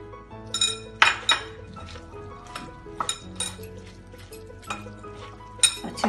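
Turmeric and mustard powder being mixed in a dish with a spoon, giving sharp, close clinks and taps of metal on the dish at irregular intervals. Soft music plays underneath.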